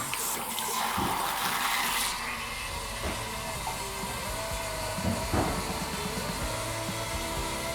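Running water rushes through bathroom plumbing after the hot supply is turned on, a loud, continuous broadband hiss close by, with a brief stronger burst at the start and no one talking.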